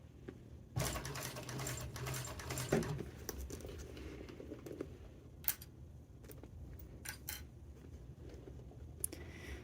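A sewing machine stitches a handbag lining across a bulky side seam, a quiet rapid whirring patter that runs for a few seconds and then gives way to faint rustles and clicks of fabric handling.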